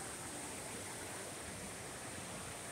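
Indoor waterfall inside a casino, a steady broadband rush of falling water that fills the whole clip at an even, close level with no voices.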